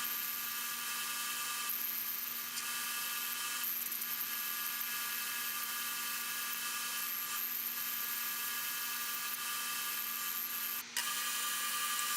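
A restored Atlas metal lathe cuts a taper on a plumb bob, giving a steady, even machining whine with a constant motor hum that runs the whole time. A brief dip near the end is the only break, and no one speaks.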